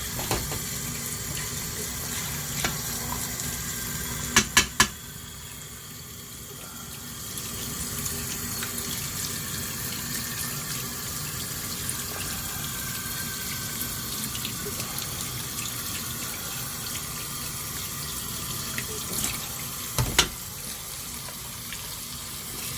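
Tap water running into a sink as minced meat for keema madras is washed, a steady close gushing stream throughout with a few clinks and knocks.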